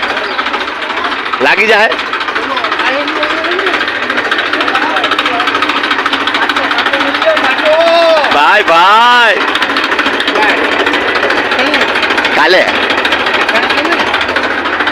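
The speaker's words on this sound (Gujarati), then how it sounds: "અમારે ટ્રેક્ટર આવી ગયું." A tractor engine runs steadily throughout, a constant rough drone at a village gathering preparing khichdi, with voices talking over it and a few louder vocal bursts.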